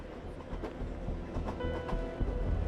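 A train of railway cars rolls along in Soviet-era archive footage, a steady rumble with faint rhythmic clicks of wheels on rail joints, carrying festival-goers away.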